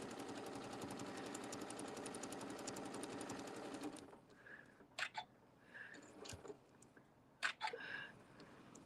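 A sewing machine stitches a quilted table topper in a steady, rapid mechanical whir that runs for about four seconds and then stops, followed by a few faint clicks and handling knocks.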